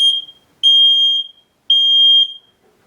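A battery-operated smoke detector sounds three loud, shrill alarm beeps, each sustained for about half a second to a second with short gaps between, close up and with no voices.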